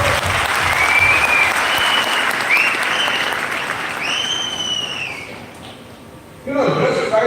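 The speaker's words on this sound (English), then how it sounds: "A big round of applause to all of you." Audience applauding in a hall, a dense sustained wash of clapping that thins out before a fresh burst of applause at the end, with a few voices and whoops riding over it.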